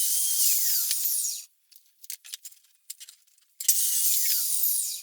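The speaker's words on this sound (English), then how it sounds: "I grabbed my cuts and I ran through the table saw" Table saw ripping a wooden board into legs about half an inch by three inches: a loud high whining cut, a pause with scattered clicks and knocks, then another loud cut.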